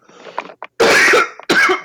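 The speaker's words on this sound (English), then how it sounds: "I need to cough real quick." A person with a cold coughs nearby: a short throat-clearing rasp, then two loud, harsh coughs in quick succession, close and alone.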